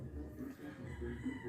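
Rooster crowing on a rural property, a single close crow broken into short rising and falling bursts over soft background noise.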